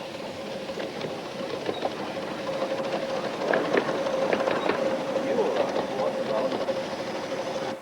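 A 7¼-inch gauge miniature steam locomotive runs at a 1994 society gathering in Betws-y-Coed, a steady mechanical rumble and clatter with a faint whistle-like tone, heard at moderate distance amid outdoor background noise.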